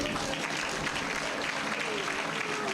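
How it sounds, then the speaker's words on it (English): Steady applause fills a college graduation ceremony at an agricultural college, a continuous crowd clapping with a faint voice partly heard beneath it. "Please give big applause."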